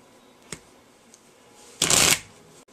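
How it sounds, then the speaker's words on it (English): A deck of playing cards is shuffled close up: a couple of faint taps and ticks, then one short, bright riffle burst lasting about half a second. "the experiment is essentially to effectively shuffle your cards"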